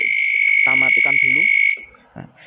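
A motorcycle anti-theft alarm blares a loud, steady high-pitched electronic tone continuously, with a person speaking over it before it cuts off abruptly.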